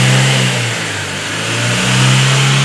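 A Chevrolet Agile car engine, one with a misfire, revs up toward 4,000 RPM and is held there, a loud, close, sustained engine drone with a slight dip in the middle and no talking.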